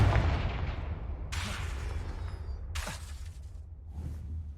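A Confringo blasting spell from Hogwarts Legacy erupts in two sharp, bright explosive bursts a second or so apart, each with a crackling shatter tail, over a steady low rumble of game ambience.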